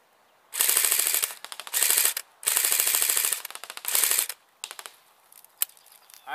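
An AK-47 RIS rifle fires several long, loud bursts of automatic gunfire outdoors, each a rapid string of sharp reports separated by short pauses, ending with a few shorter bursts and single shots.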